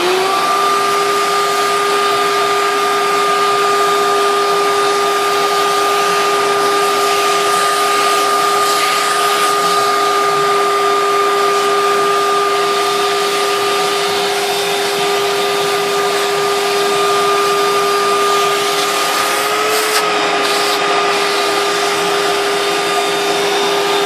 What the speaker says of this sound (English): Vacuum's going on right now.